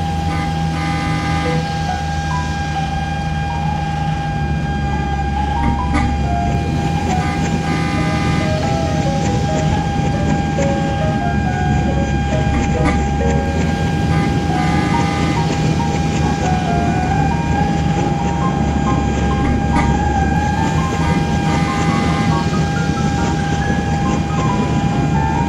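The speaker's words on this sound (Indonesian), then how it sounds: "ini adalah lokomotif CC206 teman-teman." Toy CC206 locomotive running steadily, a loud continuous mechanical whir with a sustained electronic tone, a low rumble and light clicking throughout, alone without talk.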